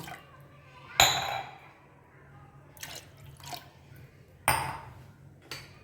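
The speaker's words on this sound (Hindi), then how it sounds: "तो हम खोलते हैं कुकर" Metallic clanks and clicks of a pressure cooker lid being opened, a few sharp knocks spaced out over quiet background.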